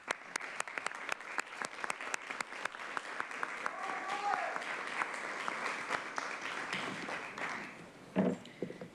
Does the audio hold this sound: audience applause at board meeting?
yes